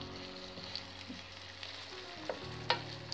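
Onions, garlic and shallots sauté in a pan as the base for a chicken and seafood paella: a steady, soft sizzle with a few light clicks and scrapes from stirring, close by.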